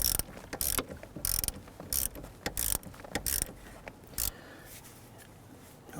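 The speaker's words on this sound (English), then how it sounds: "let's go ahead and tighten down the terminal nut here" A ratchet tightens the battery ground terminal nut on a Jeep Grand Cherokee, clicking in quick bursts of several strokes that taper into quieter spaced clicks, close up with no talking.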